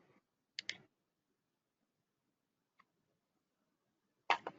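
Computer mouse clicks sound in a quiet room, a quick double click followed later by a faint tick and another pair of crisp clicks, close and isolated with no talk.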